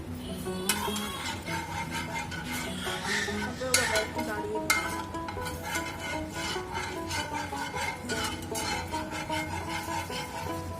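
Oil heating in a pan on a gas stove, with a steady, even sizzle running close and moderately loud throughout, broken by a few sharper clicks and taps.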